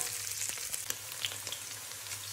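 Garlic and onion frying in a pan for a Filipino bami noodle dish, a close, steady sizzle with faint crackles and the scrape of stirring, no voices.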